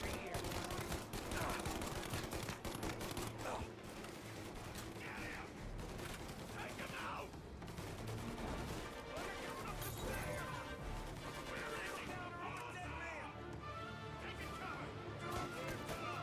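Gunfire fills a shootout in the video game Mafia: Definitive Edition, with rapid bursts and crashing impacts running throughout, while a player talks over the action.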